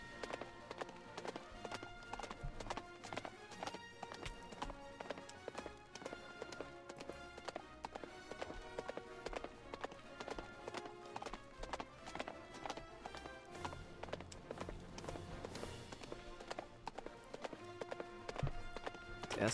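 Horse galloping in a Minecraft game, a steady rapid clip-clop of hooves running continuously under a dense layer of game music and ambient sound, without any pauses.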